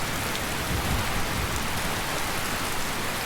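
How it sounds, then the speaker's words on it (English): Heavy rain pours down in the video game Skyrim, a dense, unbroken roar of drops that stays loud and even throughout, with no voices. "I don't think we have to be too secretive given how loud the rain is."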